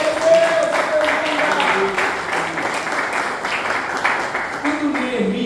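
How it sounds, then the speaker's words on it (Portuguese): A church congregation claps hands for Jesus, a steady wash of applause running throughout, with a voice speaking over it and sustained tones sounding faintly beneath. "Pode se sentar e se assente batendo palmas para Jesus."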